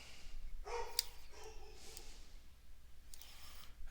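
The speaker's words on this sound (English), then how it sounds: "Sorry about the noise of my dog" Pet dog gives a few short, distant barks and yips indoors, scattered over a few seconds amid quiet room noise.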